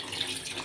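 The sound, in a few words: water being poured into a cooking pot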